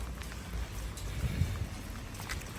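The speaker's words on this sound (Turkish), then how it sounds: "24 saattir böyle. Aralıksız yağıyor." Steady, continuous rain falls on a Ukrainian neighbourhood, a dense close patter on surfaces that holds evenly throughout with no voices.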